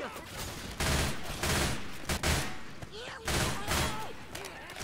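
Bursts of gunfire from a gun in a video game, several loud volleys spaced through the stretch with short gaps between them, while a voice talks over parts of it.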